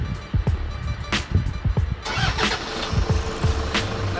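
A Toyota Hilux engine being started after an aircon repair: several cranking whirs at close range, then the engine catching and settling into a steady idle.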